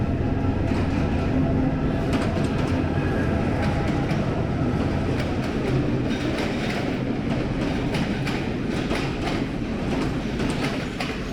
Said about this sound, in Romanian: Aici este un alt tren care e din acesta un fel de personal, adică tren obișnuit la ei.